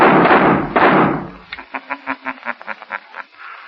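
A rough burst of noise followed by a rapid run of about a dozen sharp cracks in quick rhythm, like muffled gunfire from a recording, in an old radio drama.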